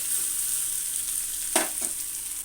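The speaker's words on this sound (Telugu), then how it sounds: "అల్లం పచ్చి వాసన పోయేదాకా ఇలా కలుపుకోండి" Ginger and spices fry in a pan with a constant bright sizzle, broken by a couple of quick scraping stirs of a spoon against the pan near the end.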